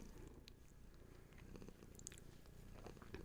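Hattie the cat purrs in a low, steady rumble, very faint and close, with light rustling and small clicks over it.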